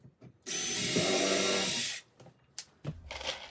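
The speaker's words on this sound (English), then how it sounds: "I got a countersink bit, and I just screw through the backs." A power drill with a countersink bit drives screws through the backs of fitted cabinets, one loud, steady whirring run of about a second and a half, then quieter clicks and handling noises.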